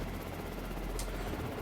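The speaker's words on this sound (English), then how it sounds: "I love the helicopter jacking animation." A helicopter in the video game Prototype gives off a steady, low rotor drone that holds at an even level throughout, with no voices.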